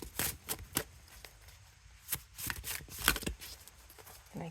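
A Tarot Pop deck in the Marseille style is shuffled by hand, giving soft, uneven bursts of card riffling and slapping, close and fairly quiet with no talking.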